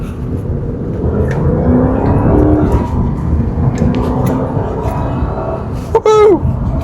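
Jaguar XK8 with a naturally aspirated V8 pulls hard under acceleration, a steady loud engine roar rising in pitch, with a brief whine near the end.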